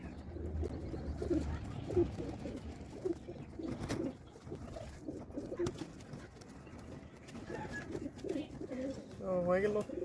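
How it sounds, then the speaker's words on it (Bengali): Native Bangladeshi Nayra pigeons, bought at the Ruhitpur pigeon market, make soft, repeated throaty coos close by, with a clearer rolling coo near the end, under people talking. "আর এটা হচ্ছে আমাদের দেশীয় একদম অরিজিনাল নাইরা কবুতর"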